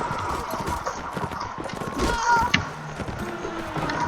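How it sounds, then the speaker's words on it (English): Horse hooves clip-clop in the video game Mount & Blade Warband during a tournament, a steady rhythmic clopping mixed with busy game noise and occasional clashes throughout. "I'm on a horse."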